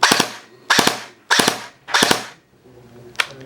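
A Kriss Vector airsoft electric gun with a MOSFET fires four sharp, close two-round bursts in an even rhythm, followed by a fainter mechanical whir and one final single shot.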